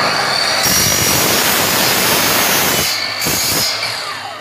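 A handsaw or power saw cuts aluminium trim at a 45-degree miter for a sliding wardrobe door mirror, a loud, continuous harsh broadband grinding that runs for about three seconds, then tapers and briefly cuts out before trailing off.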